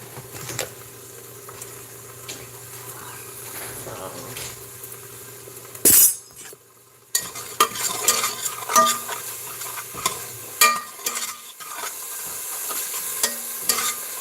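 Garlic and onion frying in a pan for a ground beef casserole, a steady low sizzle with stirring and clinks of utensils and glass, a sharp clatter midway, while people talk nearby.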